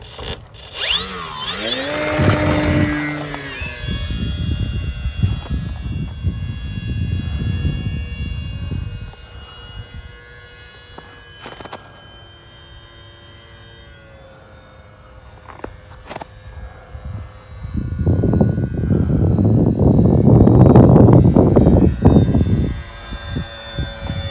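A small model airplane engine, a Flite Test Simple Scout XL, whines and buzzes, loud at first, fading into the distance, then swelling again as it passes near.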